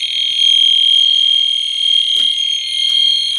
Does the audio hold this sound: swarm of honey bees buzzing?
no